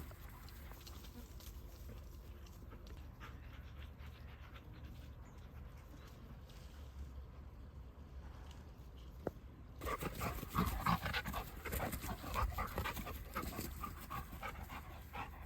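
Several dogs, among them a Labrador, romp together close by, with rapid panting, scuffling paws and small whimpers that turn louder and busier in the second half.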